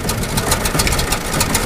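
A farm tractor's engine idles just after starting, a loud, steady, rumbling drone with a throbbing low end that holds even throughout, with no voices.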